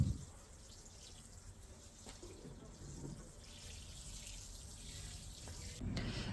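Water poured over garden plants in a terrace vegetable bed on a farm, a soft running splash close by that swells louder near the end, with no speech.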